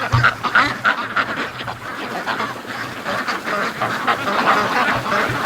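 Over 600 free-range ducks quack over one another with occasional honks from 6 geese mixed in, a close, noisy, unbroken flock chatter.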